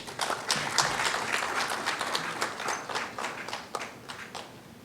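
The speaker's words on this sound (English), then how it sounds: "Shall we please receive him with an applause?" Audience applause at a Ghanaian gathering receiving the Christian Council of Ghana chairman for the opening prayer, scattered distinct claps forming a moderately loud, uneven patter that thins toward the end.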